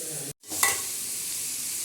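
Vegetables with green chillies sauté loudly in a pan, a steady close sizzle briefly cut off and then resuming as the spoon stirs.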